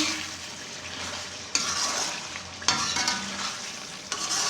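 Garam masala is stirred into chicken karahi, Peshawari Charsi street style, frying in a wok: a steady loud sizzle with scraping spoon strokes and two sharp clanks, no talk.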